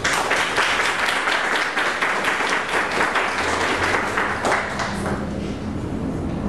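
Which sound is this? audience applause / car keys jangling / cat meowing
audience applause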